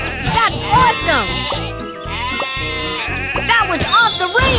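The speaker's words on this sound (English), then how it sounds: "Sheep have wandered onto the tracks." Cartoon sheep in a toy train video game bleat repeatedly, loud and close, over bright game music with chimes.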